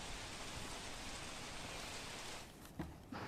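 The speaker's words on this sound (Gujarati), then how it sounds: "સુરત શહેરના વિવિધ વિસ્તારોમાં વરસાદ વરસી રહ્યો છે" Rain showers fall across parts of Surat under gusty winds, a dense, steady hiss of drops on surfaces that fades slightly near the end, heard alone without voices.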